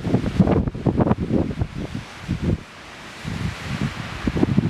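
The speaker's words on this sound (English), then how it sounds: "It is really windy up here." Strong gusting wind buffets the microphone near a mountain summit at about 8,300 feet on the Ellis Peak Trail in Tahoe National Forest, roaring in loud irregular bursts with a brief lull midway.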